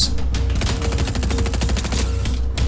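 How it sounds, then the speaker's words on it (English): Rapid submachine-gun fire from a video game, a dense unbroken burst of shots rattling loud and close for nearly three seconds. "I've tagged them both a little bit with the SMG."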